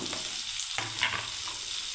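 Chopped onion and garlic fry in a pan for garlic bharta, giving a steady close sizzle with a few stirring scrapes, no voice.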